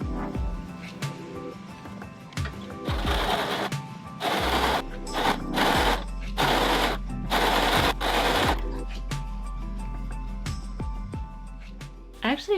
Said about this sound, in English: I'm just going to top stitch right in the middle, and I'm going to stretch as I sew.